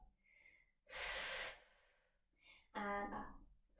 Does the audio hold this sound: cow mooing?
no